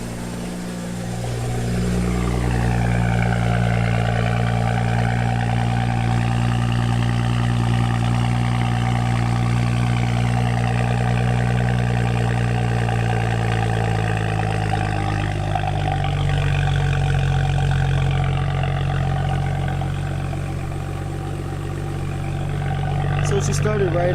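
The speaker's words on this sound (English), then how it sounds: "Cylinders sound like they're all firing." A 2012 BMW 335i M-Sport runs at a steady idle, a loud, close, continuous low engine drone with a slight wavering rumble throughout, and no talking.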